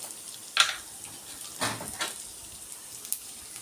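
Tempering spices for instant semolina idli hit oil in a pan on a low gas flame, giving soft, brief sizzling crackles in a few separate bursts against a quiet background.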